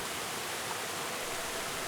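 A waterfall in the primeval moss valley forest at Sangdong pours with a steady, dense broadband rush that stays even and close throughout.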